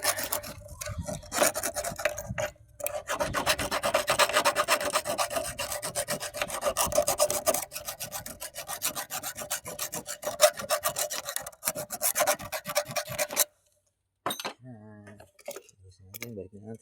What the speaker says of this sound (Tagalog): Linis natin yung mga terminal niya.